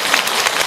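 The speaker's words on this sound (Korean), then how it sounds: "저한테 박수 치지 마세요." Audience applause in a lecture hall, a dense wash of clapping that stays steady and fairly loud through a short burst.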